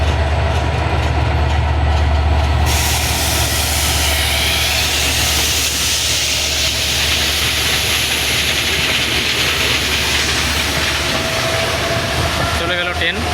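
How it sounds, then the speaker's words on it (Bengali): The Titumir Express passes Chilahati railway station with a loud, close, continuous rumble and roar of wheels and carriages that sustains throughout, with rhythmic clatter and a fading tail at the end. "তো আপনারা দেখছেন তিতুমির এক্সপ্রেস চিলাহাটি থেকে চলে গেল"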